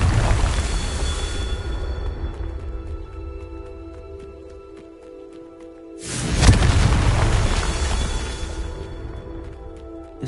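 In Hogwarts Legacy, a Confringo blasting spell goes off as a loud, broad explosive boom after a stretch of quieter rumbling game ambience with faint tonal hum, then a sustained roar that slowly fades.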